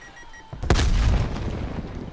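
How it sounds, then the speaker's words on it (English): A napalm airstrike in Black Ops Cold War multiplayer hits with one sudden heavy boom, followed by a rumbling, crackling burn that trails off over the next second or so. "Napalm strike, you are green to go."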